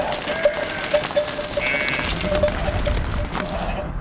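Sheep in a cork oak pasture give a series of nasal bleats, some overlapping and moderately close, over a soft outdoor background.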